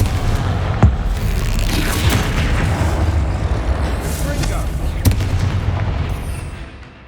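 A Confringo fire-spell explosion in Hogwarts Legacy: a loud, sustained, booming rumble with sharp cracking bursts near the start and middle, fading out at the end.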